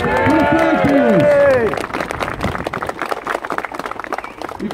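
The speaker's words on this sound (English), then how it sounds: "Let's have a big round of applause for the flag bearers" Applause from a crowd at a Britain First rally in Telford, greeting the flag bearers. Loud, with cheering and shouting over it in the opening seconds, then it settles into steady, dense clapping that runs to the end.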